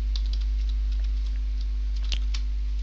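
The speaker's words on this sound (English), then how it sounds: "I'm going to type in my custom password here." Someone types a password on a computer keyboard, a short burst of light, scattered key clicks over a steady electrical hum, close and quiet.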